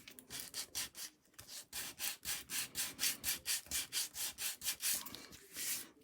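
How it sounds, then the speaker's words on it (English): Rhythmic rubbing strokes come from a decoupage tag being rubbed down by hand, with about twenty quick, even back-and-forth swipes close up and no talking. "I'm just going to rub this down."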